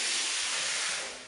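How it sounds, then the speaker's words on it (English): An SV6 steam cleaner releases a short, steady burst of steam, a close, bright hiss lasting just over a second before tapering off. "So that's just the steam"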